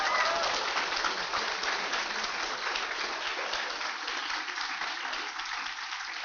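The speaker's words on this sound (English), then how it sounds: "So let's give them a round of applause." A crowd at the NASA Space Apps Challenge hackathon in Huntsville gives sustained applause, a dense wash of clapping that starts strong and gradually thins over several seconds.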